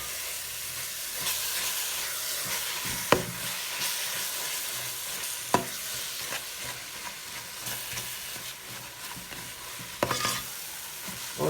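Carrot halwa with khoya is stirred and roasted in a pan, with a continuous sizzling hiss and a few sharp spoon scrapes and clicks against the metal.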